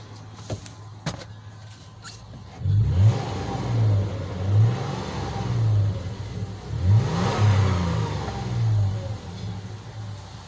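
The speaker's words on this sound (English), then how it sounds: "let's rev it up and see" A 2007 Toyota FJ Cruiser engine, recently repaired after a crank-no-start fault, revs repeatedly in rising and falling surges close by, following a few sharp clicks at the start.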